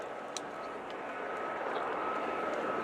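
Military training aircraft making a slow air show pass with undercarriage down before a roll and gear retraction, Slovenian trainer at Royal International Air Tattoo; steady broad engine roar held at moderate distance throughout.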